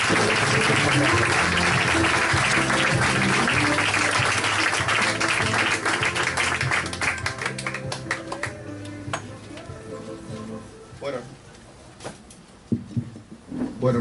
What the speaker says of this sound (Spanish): así que le vamos a dar un fuertísimo aplauso a Ciro Gabriela Bruch.